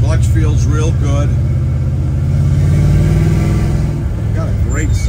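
A 1964 Pontiac GTO with a manual clutch rumbles loudly from the cabin while driving, its engine note rising and falling as it accelerates, with someone talking over it.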